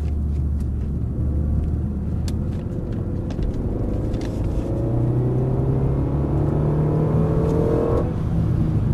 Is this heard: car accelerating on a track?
yes